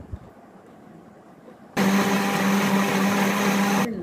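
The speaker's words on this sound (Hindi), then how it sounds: "अब मैं इसको ब्लेंडर के जग में डाल के अच्छी तरह से ब्लेंड कर लूंगी" An electric blender whirs loudly and steadily as it purees seeded watermelon chunks in its jug, starting abruptly after a quiet moment and running without pause to the end.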